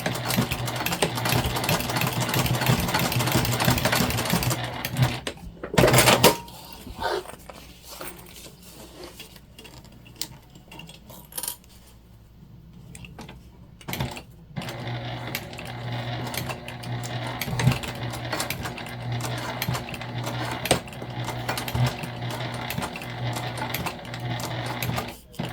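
A sewing machine basting lunch bag fabric pieces, loud steady mechanical whirring in long bursts with a quiet pause in the middle and a few sharp clicks between runs, no voices.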